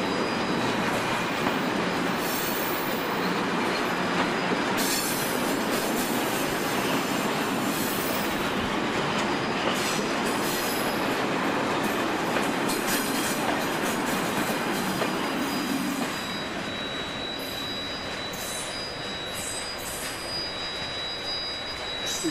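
Locomotive 692 shunting to bring the A80 train set fully into Maastricht on the Euro Rails model railway, giving a continuous, fairly loud rail rumble with wheel squeal that eases slightly near the end, with no voices.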